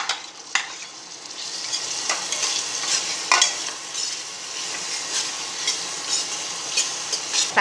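Tomatoes sautéing in a pan with ginger-garlic paste for uppukandam kulambu, made with salted dried meat. A bright continuous sizzle is punctuated by repeated scraping strokes of a spatula stirring close by, with no voices.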